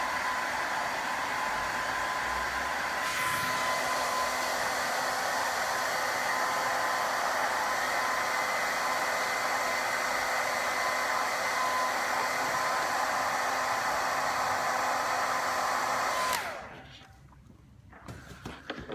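A heat gun or hair dryer blows steadily on the back of an iPad Air 2 during a cracked screen repair, a loud continuous close whooshing hum for about sixteen seconds before it switches off.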